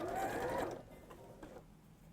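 A sewing machine runs a stretch stitch around a neckband, a short, quiet mechanical whirr that stops after under a second and leaves faint room noise.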